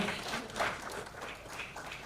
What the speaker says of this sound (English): A hand of applause, ladies and gentlemen.